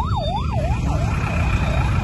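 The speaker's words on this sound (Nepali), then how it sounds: "अन्तर्राष्ट्रिय विमानस्थलभित्र चाहिँ यहाँनिर एम्बुलेन्स हो कि यो के हो पनि" An ambulance siren wails inside the underground area of Kathmandu's Tribhuvan International Airport, rising and falling in a steady repeating cycle with a constant low rumble of traffic beneath it.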